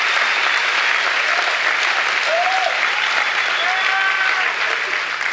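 A worship congregation at a Christian conference breaks into sustained, loud, dense applause that holds steady throughout, with faint voices calling out underneath.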